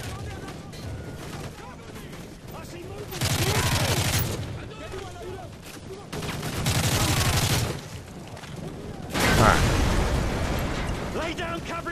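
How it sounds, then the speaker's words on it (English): Machine gun fire in Call of Duty: Modern Warfare 3 comes in three loud sustained bursts mixed with explosions and battle noise, with voices talking between them. "Those MGs are tearing us apart."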